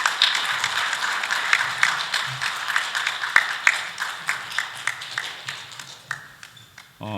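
An audience at an academic conference's opening ceremony applauds an award winner with steady, sustained clapping in a reverberant hall, individual claps standing out as the applause gradually thins near the end.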